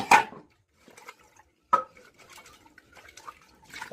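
Two cooking pots being rinsed in a home kitchen, with sharp metallic clanks of pots and pans, light splashing and trickling water, close and fairly quiet between knocks.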